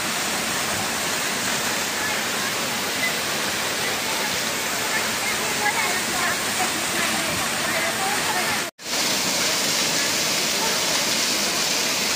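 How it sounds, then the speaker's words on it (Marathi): Varasgaon waterfall near Panshet, in forest, roars steadily and loudly, a dense unbroken rush of water that cuts out for a split second near the end. "खूप छान धबधबा आहे"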